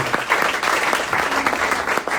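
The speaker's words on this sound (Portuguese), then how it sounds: "Meu aplauso para esse casal lindo." An audience claps loudly for a couple, a dense rapid patter of many hands sustained throughout the short burst, close and full.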